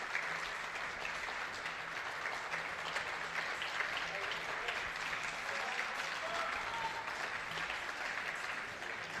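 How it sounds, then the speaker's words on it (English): Steady applause from an audience at a women's junior air pistol final at the 2025 European Championship in Osijek, Croatia, greeting coaches as they arrive, a continuous even wash of many hands clapping at moderate distance. "So the audience applauding for the coaches who are coming in to take their seats."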